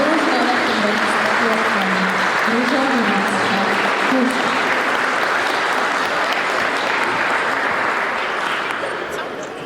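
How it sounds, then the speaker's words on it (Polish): Loud, steady applause from an audience at a 2020 mayor's award ceremony honouring nominated women fills the room throughout, tapering only slightly at the end, with a voice faintly audible beneath it. "wielkie brawa dla tych pań, które zostały nominowane"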